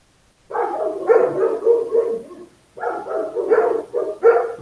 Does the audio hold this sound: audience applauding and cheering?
no